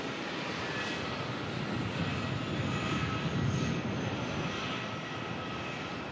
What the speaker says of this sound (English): Fiji bringing in the A350. On the totally wrong runway.